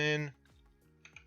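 Computer keyboard used for typing code: a few soft, scattered keystroke clicks that follow a short burst of speech.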